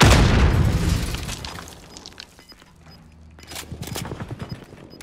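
A grenade blast and gunfire in a Call of Duty Modern Warfare match: a heavy, loud explosion opens, its rumble fades, then a rapid burst of gunshots cracks out near the end.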